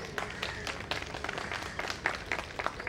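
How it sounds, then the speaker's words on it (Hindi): An audience at a panel session on alternative media gives faint, steady applause for the panel, a soft continuous patter of clapping at a distance. "इस सशक्त मंच के लिए एक बार सशक्त तालियां बजा दी जाए"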